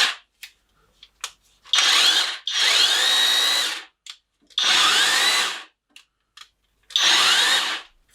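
A WAKYME cordless hammer impact drill whirs in four separate bursts of about a second or more each, loud and close, with short clicks and handling noises between runs and no talking.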